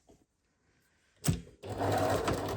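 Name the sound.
sewing machine stitching bias-cut fabric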